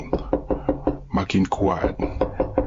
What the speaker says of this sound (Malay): Ketukan pintu tu terus berbunyi.